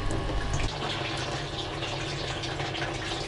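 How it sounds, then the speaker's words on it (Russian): Cold water runs from a washbasin tap in a steady, close splashing gush, with a slightly heavier surge at the start and no talking. "Такой вот здесь умывальничек. Душевный. С холодной водой, что ли?"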